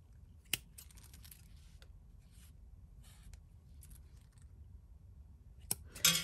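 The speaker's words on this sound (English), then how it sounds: "Just going to cut the bottoms, and then we are going to trim just to make sure that it doesn't look too crazy" Scissors cutting and trimming the bottoms of yarn tassels: a few crisp, quiet snips spread across a near-silent room, with soft rustling of fibers between cuts and a louder snip at the end.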